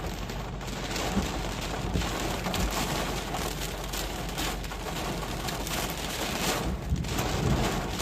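Heavy wind-driven rain pounds a car during an intense thunderstorm in Chester, Virginia, a dense, steady roar of drops on the body and glass that stays loud and unbroken throughout.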